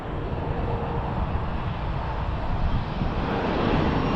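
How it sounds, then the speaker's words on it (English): Fixed-wing airplane passing low overhead close to a runway it is lined up with, a steady loud broadband engine roar and rush that holds for the whole stretch without fading, with no talk. "we are lined up directly with the runway right now, so you get some really cool footage of planes going right over our head"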